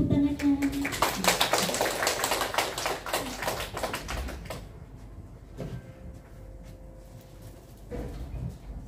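An audience of teachers claps at a school presentation session, a burst of scattered, close handclaps for the first half that thins out, followed by quieter room sounds and brief voices.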